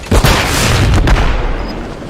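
A stun grenade going off in a video game: a sharp, loud burst followed by a broad, sustained roar that slowly tapers, with no talk over it.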